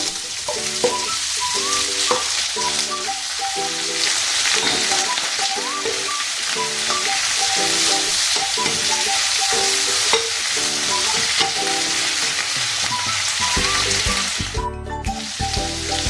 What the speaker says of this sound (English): So this just need to fry for a few minutes. Now I'm adding my beef.